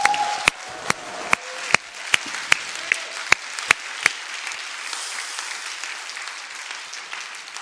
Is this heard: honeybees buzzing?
no